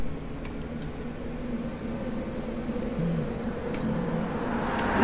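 Bugs buzz steadily in The Walking Dead video game, a continuous insect drone with a faint thin whine holding across the scene and a brief brighter tick near the end, with no talking.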